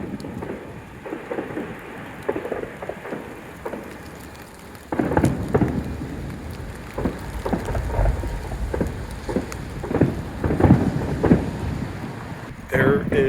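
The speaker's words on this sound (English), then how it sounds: "It's raining out, and it's misty and nasty" Rain falls outside on a misty night in the United Kingdom, a steady hiss and patter that grows louder partway through, with low rumbling thuds in the distance.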